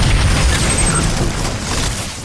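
Loud, booming explosion from an exploding enemy in the video game Too Human, a heavy blast with crackling debris that quickly fades over a couple of seconds, no talking.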